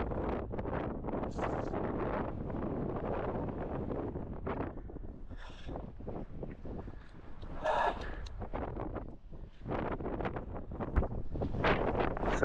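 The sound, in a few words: wind blowing outdoors on a hill walk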